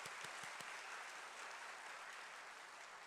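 A church congregation at an anniversary Easter service applauds its volunteers, a steady wash of many hands clapping in a large hall, distant and even throughout with no talking.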